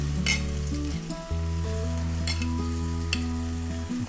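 Sliced onions hiss and crackle in hot coconut oil inside a pressure cooker, a constant close sizzle with light stirring, layered under steady background music.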